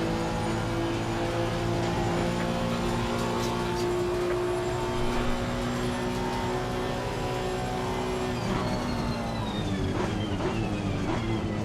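Porsche race car lapping Imola in Assetto Corsa Competizione, a loud continuous engine drone with steady harmonics, shifting pitch as it brakes and accelerates near the end, alongside other car noise.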